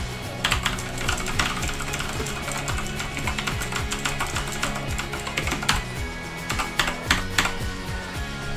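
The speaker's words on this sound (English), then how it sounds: "That's what the TTC blue switches sound like." Rapid, clicky typing on a GAMDIAS GKB3000BL Hermes mechanical keyboard with TTC blue switches, sharp, tactile key presses in a quick, uneven flurry, close to the listener.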